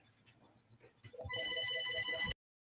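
A telephone rings in a quiet room, a repeating electronic ring that starts soft, swells louder after about a second and then cuts off abruptly, with no talking over it.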